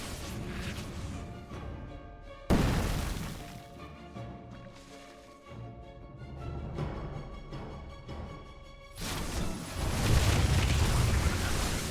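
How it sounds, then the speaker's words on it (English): Lurker attack shots in a StarCraft 2 match, Protoss against Zerg, come as repeated bursts and crashes over a game soundtrack with sustained tones, with a heavy impact near the start and a denser barrage toward the end. "Those Lurker shots already coming through is a bit of a warning as well"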